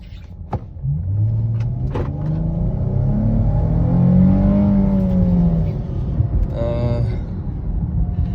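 A stock Chrysler 300 V6, a heavy sedan of nearly 5,000 pounds, accelerates from inside the cabin: a loud engine rumble climbs in pitch as the revs build, then eases near the end, with a few clicks and knocks.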